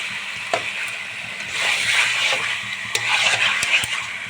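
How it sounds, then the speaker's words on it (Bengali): Chicken being stir-fried in a pan with spice masala for a Bengali chicken curry, a steady close sizzle with scraping stirs and occasional clatter of the utensil against the pan. "চিকেন মশলাটা দিয়ে আমি খুব ভালো করে কষিয়ে নেব আর বেশ অনেকক্ষণ ধরে কষাতে হবে"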